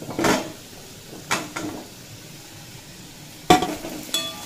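Papaya, potato and pumpkin sauté with spices in a pan over a low-to-medium flame: a soft, faint sizzle broken by a few sharp spatula scrapes and clacks against the pan.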